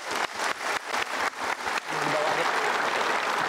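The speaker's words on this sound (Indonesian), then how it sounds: "Oke, kita berikan tepuk tangan." Audience applause at a motivational seminar, starting as a few bursts of clapping that swell into steady, dense applause filling the room.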